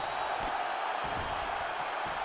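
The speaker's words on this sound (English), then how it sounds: "you hear the crowd react every time they come together" Arena crowd at a UFC Fight Night bout reacting to heavy strikes: a loud, continuous roar of spectators with sharp thuds and bursts of shouting rising over the din, dense and unbroken throughout.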